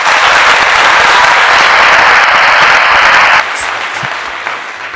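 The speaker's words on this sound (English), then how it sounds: "Round of applause for that." A loud, dense round of applause from a crowd, steady for about three seconds before dropping abruptly to a quieter tail of scattered claps.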